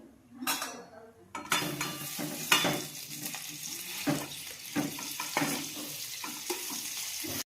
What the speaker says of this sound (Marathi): फोडणीसाठी आपण तेलात जिरे मोहरी टाकून घेतलेले आहे। आता आपण त्यात बटाटा टाकून घेऊ।